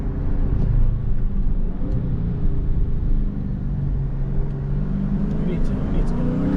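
A Dodge Charger Scat Pack 392 rumbles steadily from inside the cabin while driving through an old city area, a deep continuous engine drone with slight shifts in pitch as it changes gears.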